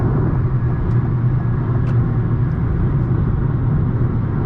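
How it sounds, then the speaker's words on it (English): Steady low rumble of road and wind noise inside a 2021 Toyota Corolla at highway speed, constant and fairly loud, with no talking. "Let me be quiet for just a second so you can get kind of a full taste."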